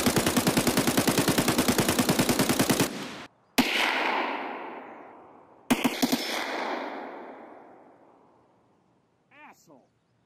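A sustained automatic burst of rapid gunfire in Escape From Tarkov, loud and close, cuts off abruptly and is followed by two single heavy shots with long echoing tails, then a brief voice near the end.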